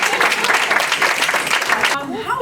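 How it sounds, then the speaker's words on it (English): Audience applause rings out at a live interview event, a dense wash of clapping for about two seconds that stops abruptly and gives way to a faint tonal sound. "Round of applause for her."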